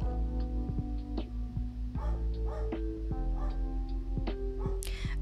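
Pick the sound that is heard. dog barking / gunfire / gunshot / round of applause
dog barking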